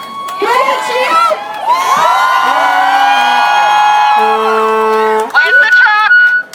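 Crowd at a Brisbane equal love rally cheering and whooping loudly, voices rising into sustained shouts with some high children's yells over several seconds.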